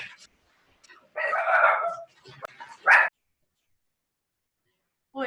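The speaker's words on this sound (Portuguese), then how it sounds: "aqui a cachorrinha começou a latir muito, muito, muito" A small dog barks in a few separate loud bursts at close range, with quiet pauses between them and no talking, heard indoors while heavy rain falls outside.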